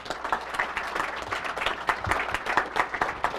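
An audience at a technical college letter of intent signing day ceremony claps steadily, a dense round of applause from a moderate-sized crowd heard indoors with no talk over it.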